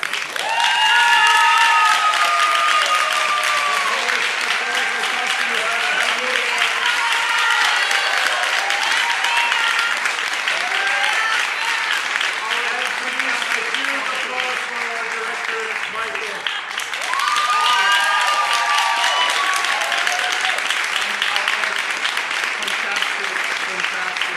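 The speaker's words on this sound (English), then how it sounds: "could we please have a round of applause to our fantastic assistants, Liz and Desireé" Theatre audience applauding steadily at the close of a school production of The Taming of the Shrew, dense clapping with some cheers and talk mixed in, holding for the whole stretch with a brief dip midway.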